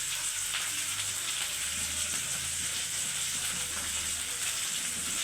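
Green chillies sautéing in a pan for a Tamil-style fish curry, giving a steady, even sizzle and hiss that carries on without a break, with no talking.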